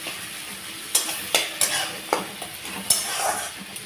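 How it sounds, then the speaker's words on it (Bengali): Onions and tomatoes sizzle in a pan while a utensil stirs them, giving about eight sharp scraping strokes at an irregular pace over a steady frying hiss, close up with no talk. "দিয়ে আমি এবার ভালো করে নাড়বো, টমেটোটা যাতে একদম ভালোভাবে গলে যায় সেই হিসাবেই নাড়বো এটাকে"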